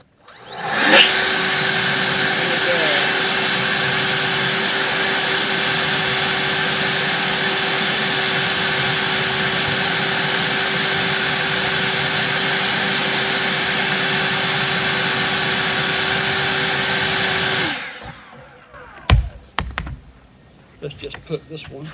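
An EGO cordless leaf blower fitted with a tapered, narrowed factory nozzle tube runs at a steady, loud, high-pitched whine for about seventeen seconds, then cuts off abruptly, leaving scattered handling clicks.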